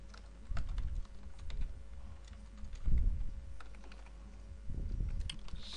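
Fingers type code on a computer keyboard in quiet bursts of rapid clicky keystrokes separated by short pauses, close and fairly soft, with no talk.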